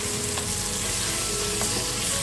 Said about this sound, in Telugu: ఇప్పుడు అందులోనే పొడుగ్గా కట్ చేసుకున్న ఆనియన్స్ వేసుకొని బాగా ఫ్రై చేసుకోవాలి